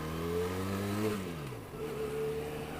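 A Benelli Leoncino 500 motorcycle accelerates hard, the engine revving up through a gear and then climbing again, loud and close from the rider's position, with no talking.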